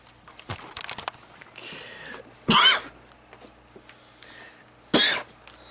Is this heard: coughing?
yes